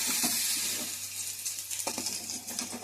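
Potatoes fry in a pan with salt and chili powder, giving a steady, close hiss of sizzling oil broken by a few soft clicks and stirring scrapes.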